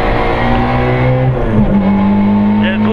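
A rally car accelerates hard at full throttle, heard from onboard, the engine droning loud and steady before a brief dip and rise in pitch as it pulls away; a voice speaks faintly under it.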